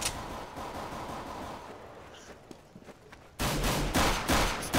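Counter-Strike: Global Offensive gunfire, with a burst of rapid shots at the start, scattered single shots in a quieter middle, and a loud renewed volley near the end.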